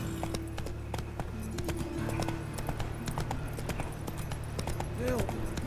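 Horse hooves clip-clopping at a brisk, steady rhythm in The Witcher 3, with a continuous patter of strikes, a low ambient drone beneath and a brief whinny-like tone near the end.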